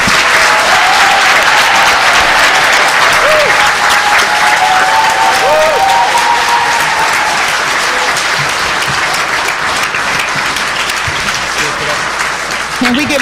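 Crowd at a New Jersey General Assembly candidates' debate breaks into loud, sustained applause, thick continuous clapping with a few voices and cheers rising briefly within it.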